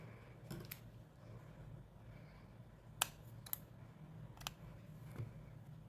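Scissors cut through crochet yarn on a baby sneaker project, giving a few faint, sharp snips with quiet gaps between them against low background noise.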